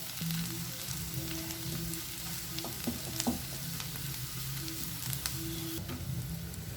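Onions, ginger and garlic sauté in a pan for a Kerala green peas curry, giving a quiet, steady sizzle with occasional light stirring taps and scrapes, with no voices heard.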